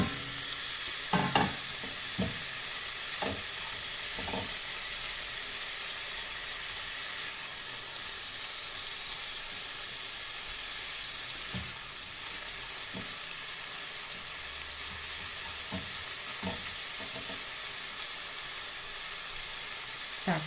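Chicken fillet fries over medium heat in a pan, a constant close sizzle broken by repeated scraping stirs of a utensil against the pan, with no one talking.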